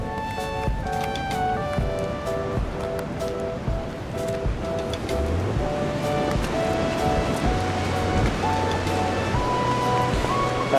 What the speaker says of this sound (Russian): все гуляют вдоль набережной и смотрят на эти гигантские волны